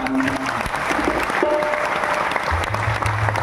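Audience clapping during a Marathi Hari kirtan devotional gathering, a steady dense wash of applause from a crowd lasting the whole stretch, with faint tonal instrument notes underneath.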